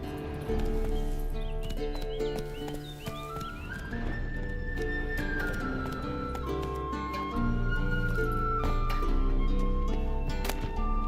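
Horse hooves gallop in The Witcher 3, a steady clip-clop rhythm running the whole time beneath a continuous game music score, with a brief whinny-like tone rising partway through.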